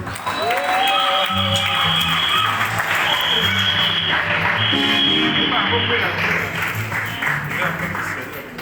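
A church congregation bursts into sustained, loud applause and cheering to acclaim the Lord, with clapping filling the room throughout and voices and music mixed in.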